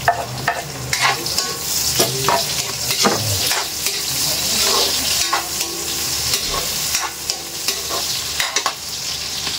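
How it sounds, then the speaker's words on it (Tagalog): Garlic, onion and ginger fry in a pan with steady sizzling, broken up by repeated scraping stirs from a spatula, close and continuous throughout. "medyo pinapry natin ng konti yung ating mga pampalasa, yung bawang, yung sibuyas, luya"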